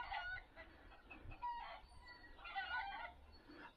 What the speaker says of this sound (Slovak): To je kohút a sliepka.